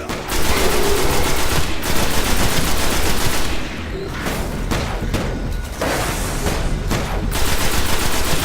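Dense, continuous rapid gunfire in the Destiny shooter, overlapping bursts and booming shots firing almost nonstop, loud and close, briefly easing before picking back up.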